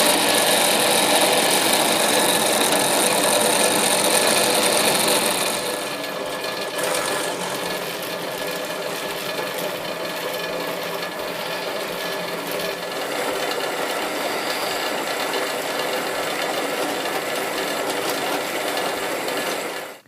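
Power drill biting into factory-fitted shear bolts on a Yamaha FZS600 motorcycle ignition barrel, a continuous loud whirring grind that steps down slightly partway through, close up and steady with no talk.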